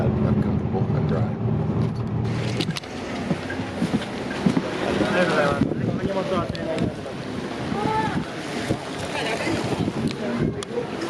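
Strong wind buffets the microphone outdoors with a heavy, roaring rush that stays loud throughout, while people talk intermittently through it.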